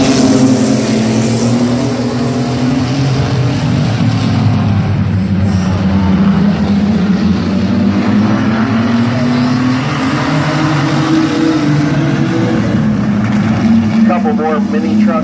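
Mini trucks race at Midvale Speedway, a pack of engines droning loud and constant as they circle, the pitch rising and falling under an announcer's commentary.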